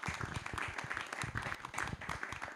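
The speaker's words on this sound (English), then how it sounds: "let's give another round of applause for Becky and Brian" A conference audience claps for two speakers after a morning talk on NFTs and the arts, the applause fairly quiet and somewhat distant, with individual hand claps standing out in an uneven patter.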